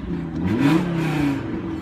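A 2015 Audi RS3 engine swells in a short rev, its mid-pitched note rising and falling over under two seconds, heard close and fairly loud with no talking.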